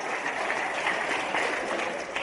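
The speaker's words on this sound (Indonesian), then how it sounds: "Nah yang ini boleh tepuk tangan." Audience clapping at a religious talk, a dense steady burst of applause throughout, close and moderately loud.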